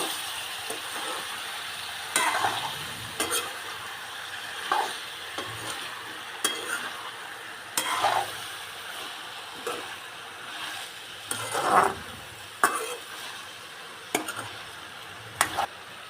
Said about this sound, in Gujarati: બટેટા બધા નાખી દીધા હવે અને હલાવી નાખીએ એટલે એ પણ ટીંડોરા સાથે તેલમાં ભળી દે